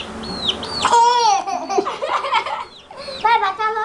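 A baby chick gives two high, thin peeps before a baby bursts into bubbly laughter and babbling nearby, with a couple more faint chirps mixed in.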